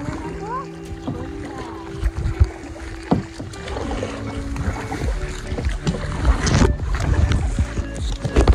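Kayaks paddled across the sea off Colva Beach in Goa during a casual race, with water sloshing and splashing against the hulls as people talk and shout throughout.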